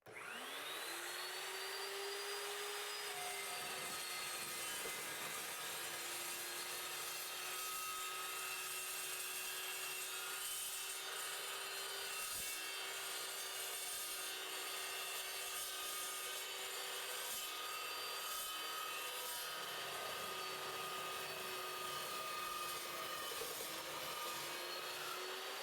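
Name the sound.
Evolution S355MCS miter chop saw cutting 3-inch square steel tube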